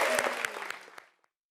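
Applause from a television studio audience, a brief dense burst of clapping that fades out within a second or so, with a faint voice underneath.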